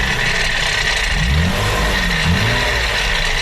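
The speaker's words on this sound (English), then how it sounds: "these gearboxes are a little bit noisy and whiny." A manual-swapped Lexus IS300 drives along with a loud steady engine drone and road roar, and a high whine from its noisy gearbox rises and falls as the car pulls.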